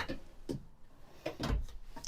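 Several sliding wooden drawers in a 2025 Jay Flight SLX 160LK camper opened and shut in quick succession, each a short scrape ending in a soft knock, close by in a quiet room.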